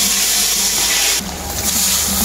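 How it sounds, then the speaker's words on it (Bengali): Boiled dal poured into hot oil tempered with bay leaf, dried red chilli and five-spice, giving a loud steady sizzle and splash that surges midway before settling into continuous frying hiss. "তেলের মধ্যে দিয়ে দেবো তেজপাতা আর শুকনো লঙ্কা, আর দেবো 5 ফোড়ন। এরপর দিয়ে দেবো ডালটা সেদ্ধ করা।"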